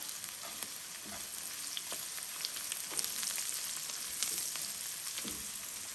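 Masala with red chili and cashew butter sizzles steadily in a pan, a continuous close frying hiss with occasional small pops and stirring scrapes, no talking.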